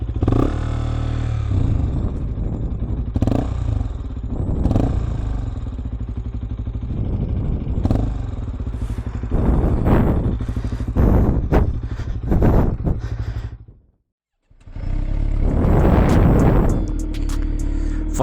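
A KTM 125cc motorcycle engine, its engine warning light flashing, idles with a throbbing putter and is revved repeatedly in short bursts, then cuts out briefly before roaring back up, close to the listener.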